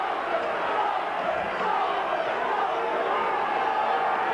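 Large rugby league stadium crowd at Salford before kick-off: a dense, steady roar of many voices murmuring and calling, even and continuous throughout with no single voice standing out.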